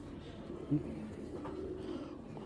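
A male Belgian racing pigeon gives a single brief, low coo early on, set against a quiet murmuring background.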